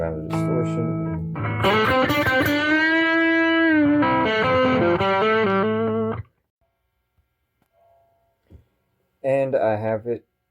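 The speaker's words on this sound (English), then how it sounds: "I got a Boss Super Overdrive, great little pedal, and I'm not really pushing it that hard." An electric guitar on its bridge humbucker, played through a Boss Super Overdrive pedal, rings out with loud sustained overdriven chords and bends for about six seconds, then falls silent before a short final burst of distorted notes.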